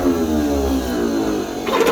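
Tractor engine firing up and running, a steady loud mechanical drone with a rough low rumble that shifts slightly near the end, with no voice heard.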